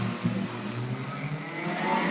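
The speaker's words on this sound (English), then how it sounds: "And the roar of the engine, the waving of the green flag tells us we're off." Stock car engines roar together as a race starts. The noise swells with a brief surge near the start and holds as a continuous, mid-distance racing rumble.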